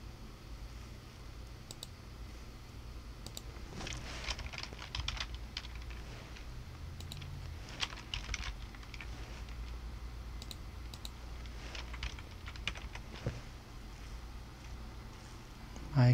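Computer keyboard typing in irregular bursts of close clicks and key taps over a low steady hum, with no voices heard.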